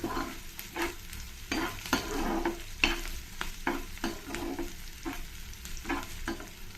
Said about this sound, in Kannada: ಎಲ್ಲನೂ ಸ್ವಲ್ಪ ಫ್ರೈ ಆಗೋ ಥರ ಒಂದು ಎರಡು ನಿಮಿಷ ಫ್ರೈ ಮಾಡ್ಕೊಳ್ಳೋಣ